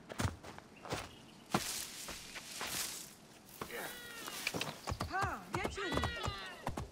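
Horse hooves clip-clop along a road in Assassin's Creed Origins, irregular rhythmic thuds mixed with other game sounds and some bird-like chirps, under a steady background.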